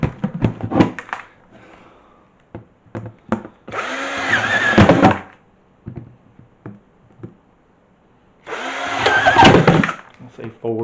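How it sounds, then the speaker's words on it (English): A power drill bores holes into a plastic bucket lid in two separate bursts of whirring, each about a second and a half long, with a person talking between them. "we're just going to drill a couple of holes around the bucket lid."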